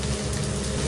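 Whole cardamom, cinnamon, cloves and five-spice mix sizzle in hot oil in a pan where fish is frying, a brief, dense, steady crackle heard up close without talk.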